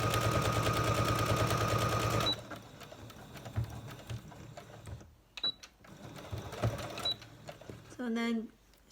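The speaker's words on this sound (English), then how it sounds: "I'm going to sew and then back stitch." A sewing machine stitches along a fabric edge and then back stitches while sewing on snaps: a dense, loud rhythmic whirr that stops after about two seconds, followed by quieter handling noises and short bursts.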